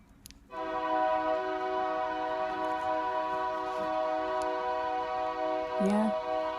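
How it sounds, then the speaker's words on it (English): A passing train sounds its horn in one long, loud, sustained chord that begins abruptly and holds to the end, with rail rumble beneath and a brief voice near the close. "The choo-choos are coming."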